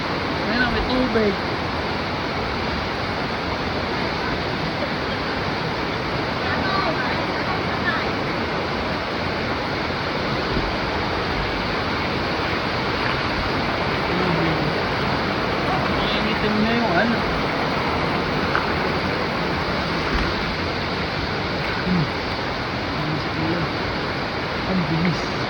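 Rushing water inside Sumaging cave in Sagada, a loud, dense, steady roar of flowing water filling the space, with people talking faintly beneath it.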